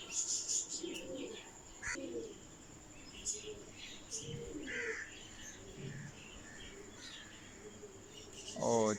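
Pigeons kept for pigeon flying coo softly in low, repeated murmurs, with scattered chirps and faint bird calls over a quiet outdoor hum.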